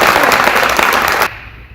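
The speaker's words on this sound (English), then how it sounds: "So please give them one more round of applause." A crowd applauds honored football players at a school awards event, dense steady clapping that stops abruptly partway through and leaves a quiet room.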